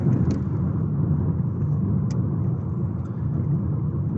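Steady low rumble of a car engine heard from inside the vehicle as it accelerates toward a 40 mph limit, with road noise droning underneath.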